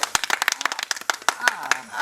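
Quick, sharp hand claps in an uneven rhythm during a Maithili comedy skit, fairly close and loud, with people talking over them.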